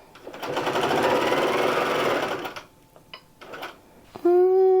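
Grace Q'nique 16X quilting machine stitching, a loud close rapid mechanical whir for a couple of seconds, then a few quieter short bursts and a sustained electronic tone at the end.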